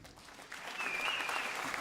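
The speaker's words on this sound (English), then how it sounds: "could you please give a warm round of applause for Charles Avalanche" Audience applause at a Christmas spectacular stage show, a steady, distant-sounding wash of clapping that holds throughout, with no speech over it.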